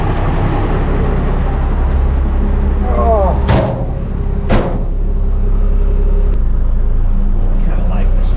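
A pickup truck with a ratback bed drives along with a low steady engine and road rumble, broken by two sharp knocks and a brief squeak. People talk over it at times.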